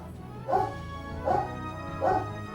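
Three evenly spaced dog barks sound from the background, moderately faint and separated by roughly a second of low room hum.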